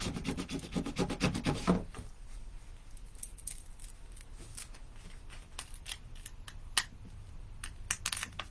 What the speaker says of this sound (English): I'm going to rub it on there.